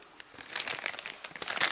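Paper wrapping on a packaged product, such as men's glasses or a case, crinkles and rustles in short bursts as it is unwrapped close up, growing busier toward the end, with no voices.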